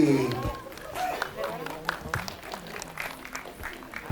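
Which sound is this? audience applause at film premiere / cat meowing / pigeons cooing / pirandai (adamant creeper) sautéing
audience applause at film premiere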